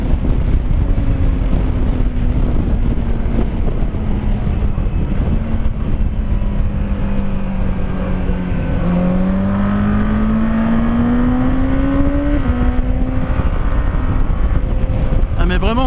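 Yamaha MT-07 Tracer motorcycle in A2 restricted form riding on a road, its engine droning steadily with rising and falling pitch as it revs through gears, heavy wind rush over the microphone throughout.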